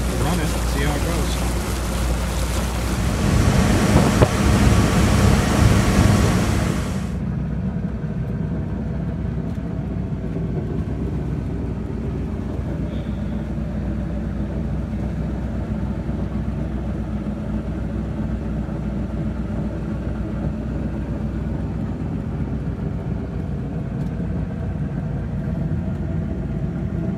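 A boat's sterndrive engine, an SEI SE106 unit fitted in place of a Mercruiser Alpha drive, running with a steady low rumble. A louder broadband burst comes in the first seven seconds, then the engine drones on evenly.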